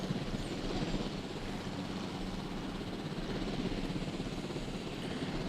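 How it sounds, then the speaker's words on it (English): Helicopter in the video game Jurassic World Evolution, a steady, dense rotor and engine drone held at a constant level, with no speech over it. "A cool thing is you can actually fly the helicopter."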